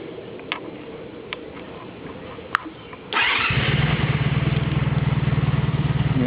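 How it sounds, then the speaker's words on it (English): A Honda Magna motorcycle engine, a 1994–2003 model, cranks with a sharp starter catch and fires up, settling into a loud, steady rhythmic idle after a few faint clicks. "Now let's turn the bike on."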